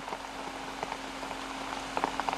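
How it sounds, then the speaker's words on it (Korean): Steady monsoon rain falls on Jirisan mountain in mid-July, a continuous broadband hiss with scattered louder drop taps, heard alone at moderate level. "7월 중순 지리산에 장맛비가 내리고 있다."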